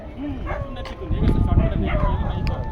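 Several dogs bark and yip at a walker on a street, sharp overlapping barks close by, mixed with people talking.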